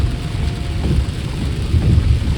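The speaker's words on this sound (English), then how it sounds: "The rain has started. We're gonna get some Friday the 13th thunderstorms." Night rain falls during a Friday the 13th thunderstorm, a dense steady hiss with low rumbling swells of thunder, heard close and loud with no voices.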